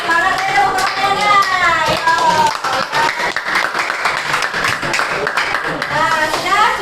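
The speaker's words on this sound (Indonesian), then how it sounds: "Tepuk tangan dulu biar semangat ya, tepuk tangannya." A classroom of children claps their hands together, quick bright clapping building and fading in waves while a teacher's voice and children's chatter run over and around it.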